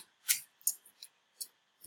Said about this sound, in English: There's two that kind of just flipped out as I was shuffling the deck.